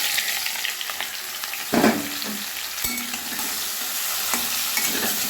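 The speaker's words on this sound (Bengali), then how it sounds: "এবারে মাছগুলো আমি ভেজে নেব।" Chang fish frying in hot mustard oil in a wok: a continuous crackling sizzle broken by a few sharp clanks and scrapes as the pieces are stirred, close and fairly loud, with no talk.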